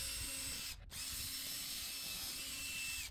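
A power drill boring a pilot hole into a wall to mount an outdoor TV bracket, running steadily with a brief pause partway and stopping at the end, close by, with no talking.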